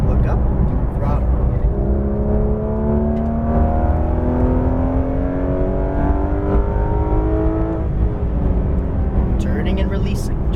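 Porsche GT3 RS 991.2 accelerating on the Exotics Racing track in Las Vegas, its engine note climbing steadily in pitch through the gears, loud and close under constant wind and road roar, with a person speaking over it.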